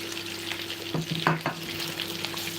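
Onions sizzle and fry in a pot for palm nut soup, a steady hiss with a few stirring scrapes near the middle, close and fairly loud with no talking.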